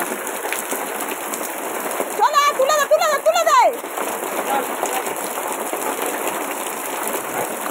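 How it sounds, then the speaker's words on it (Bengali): Steady rain falls outdoors, a continuous close hiss of drops on surfaces running throughout, with people talking over it in the middle. "বৃষ্টিতে ভিজছে দেখো"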